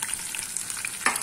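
Chopped garlic drops into hot tempering oil already holding cumin, mustard seeds and dal, giving a steady close sizzle that surges into a louder crackling burst near the end; no voices.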